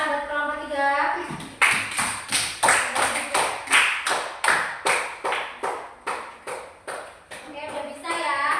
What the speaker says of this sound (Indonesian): beri tepuk tangan buat kelompok 3.